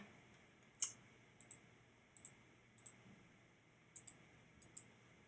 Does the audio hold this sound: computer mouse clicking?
yes